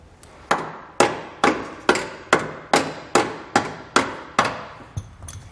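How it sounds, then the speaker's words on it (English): A hammer strikes the head of a carriage bolt during installation of a B and W custom hitch kit with base rails on a 2020 Chevrolet Silverado, giving about ten sharp, evenly spaced metallic taps, close and loud, with no talking. "just kind of tap on the head of that carriage bolt"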